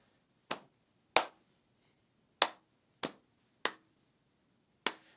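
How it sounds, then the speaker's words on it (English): Six sharp, isolated hand claps and pats from a pat-clap partner hand game, spaced unevenly with quiet gaps between, close and crisp with no talking. "So it'll be pat, clap, out, clap."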